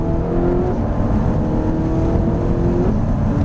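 A Ferrari F458 Italia accelerating on a track at Trappes, heard as a loud, steady engine drone with rising harmonic tones as revs climb, close and continuous throughout.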